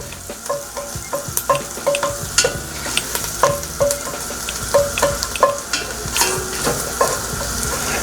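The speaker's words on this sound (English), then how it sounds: "now before the pan gets too hot, I'm going in with the garlic" Four big cloves of garlic fry in a hot pan on the stovetop, a close sizzle broken by repeated scrapes and light clinks of stirring, with no talking.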